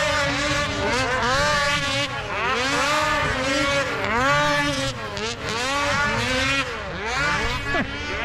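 A 2023 Ski-Doo MXZ 600 RS snocross race sled being tested on a track. Its engine revs loud and close, rising and falling in continuous sweeping waves as it accelerates and backs off.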